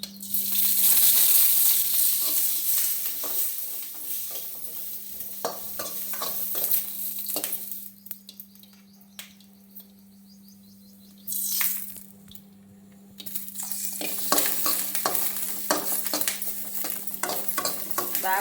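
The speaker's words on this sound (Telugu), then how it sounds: "బాగా ఇలా వేయించుకోవాలి, కొంచెం బాగా మగ్గేంత వరకు, లేకపోతే పచ్చి పచ్చిగా ఉంటాయి మిరపకాయలు ఇవి." Green chillies fry in hot oil in a pan for an okra chutney, a loud crackling sizzle with stirring scrapes that fades into quieter stretches before the frying surges again.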